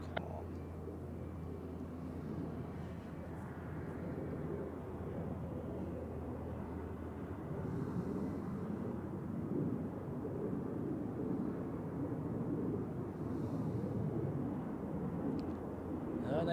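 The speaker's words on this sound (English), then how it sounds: "An A320neo" An Iberia Airbus A320neo at Zurich Airport gives off a steady, fairly loud low jet rumble that swells slightly partway through and holds throughout, with a voice talking over it.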